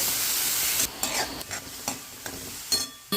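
Oil sizzles in a kadai as ingredients are sautéed for mutton sukha, a steady frying hiss broken by a few distinct stirring scrapes, close up with no talking.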